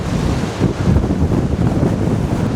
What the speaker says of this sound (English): Oh, really some massive waves out there in the distance.